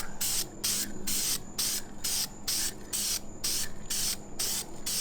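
Clear coat is sprayed from a can onto Audi-branded Brembo brake calipers in rhythmic bursts, about ten close, loud hissing sprays separated by short pauses.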